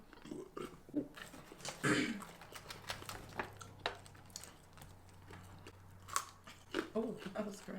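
Crunchy fried chicken tenders are bitten and chewed up close, with a sharp crunch early on followed by quieter chewing and mouth sounds.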